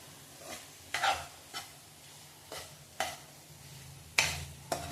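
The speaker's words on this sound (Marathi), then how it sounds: "4 मोठे चमचे तेल घातलंय मी. आणि हे मी आता परतून घेते." Vegetables sizzle in hot oil in a pan as they are sautéed, with a spoon scraping and stirring in regular strokes every second or so, quiet and close, with no talking.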